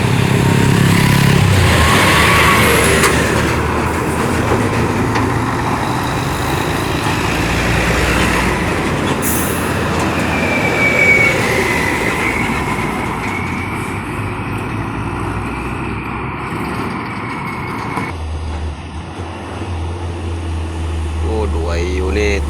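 Hino 500 trucks laden with cargo labour up a steep hill toward Jakarta, a continuous heavy diesel drone with rumbling traffic throughout and voices talking over it.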